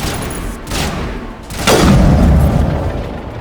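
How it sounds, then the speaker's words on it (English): Gunfire in the video game Mass Effect Legendary Edition, loud bursts and booming shots that swell into a heavy, sustained barrage near the end. "The guns are too loud"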